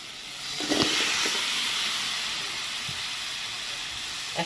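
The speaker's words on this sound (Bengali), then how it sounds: "শশাটা দিয়ে এইভাবে কষাতে হবে" Cucumber is fried with prawns and spices in a pan, giving a steady, even sizzle and hiss close by with a few faint clinks, no voices.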